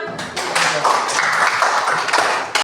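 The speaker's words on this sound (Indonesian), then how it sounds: "Oke, tepuk tangan." A classroom of students claps hands together, a dense burst of applause lasting a couple of seconds that ends with a final sharp clap, fairly loud and close.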